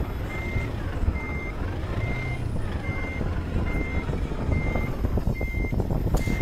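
Steady, evenly spaced reversing beeps from a truck in Euro Truck Simulator 2 on a Brazilian map, repeating about every half second over a loud, rumbling engine drone.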